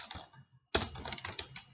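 Quick keystrokes on a computer keyboard, a brief burst, a short pause, then a denser run of close clicky typing with no voices.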